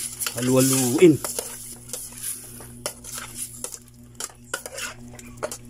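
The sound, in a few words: chicken stirred and sizzling in a pot for chicken pochero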